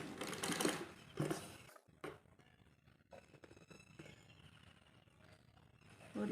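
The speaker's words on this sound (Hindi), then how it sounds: "अब हम यहाँ से इस तरह से फोल्ड कर कर एकदम किनारों पर मशीन चलाते जाएंगे।" A sewing machine runs in short bursts as it stitches along the folded edges of a designer top. A longer whirring run is followed by brief pauses, with quieter handling in between.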